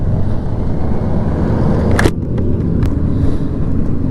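Motorcycles in a group ride on a cold 46-degree January day around Atlanta, a steady low engine drone buried in heavy wind rush on the mic, loud and constant.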